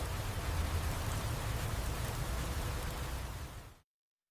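Steady rain falls, a dense, even hiss of drops spread across the whole range, loud and close with no voices, holding constant before cutting off abruptly near the end.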